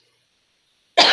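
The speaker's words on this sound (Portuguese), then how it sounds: "Estou com tosse." After a short silence, a teacher in a physics class lets out one loud, close cough, abrupt and harsh, lasting about a tenth of a second before the clip ends.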